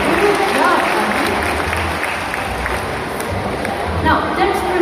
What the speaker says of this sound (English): Let's give a round of applause for Toffee!